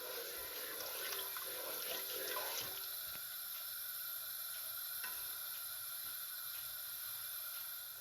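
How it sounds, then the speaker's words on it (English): Steady watery hiss and bubbling of salted water heating toward a boil in a pot for rice, with faint crackles and no talk. "Make the water to come to boil."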